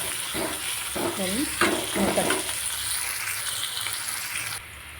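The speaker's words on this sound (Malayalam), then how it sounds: "വെളുത്തുള്ളി, ഇഞ്ചി, കരിവേപ്പില നമുക്ക് ഇളക്കുക." Garlic, ginger and curry leaves sizzle in hot oil for a crab fry. A dense, even frying hiss fills the clip, with a few stirring scrapes early on before it settles into a steady sizzle.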